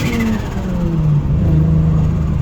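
A single-turbo BMW N54 engine with a misfire and a leaky bank revs under load to build boost, a steady loud mid-pitched drone with rising harmonic tones across the short burst, no voices.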